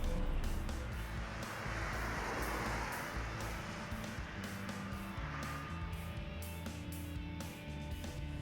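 A Renault Twizy electric car works through an obstacle course, giving a steady wash of road and tyre noise with intermittent squeals and short clicks over several seconds, with no talk.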